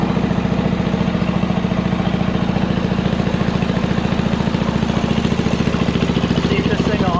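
A small engine runs at a fast idle after a no-spark magneto repair, its steady chugging pulses close and loud, carrying on evenly without a break.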